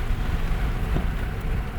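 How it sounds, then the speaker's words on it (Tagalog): Heavy rain pouring down in Manila, a dense, even hiss of falling water with a low rumble beneath, steady and close with no talking. "Grabe yung ulan."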